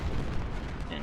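An artillery volley in Ultimate General: Civil War, set at the Second Battle of Bull Run, heard as a steady, fairly quiet rumble of overlapping cannon and musket fire.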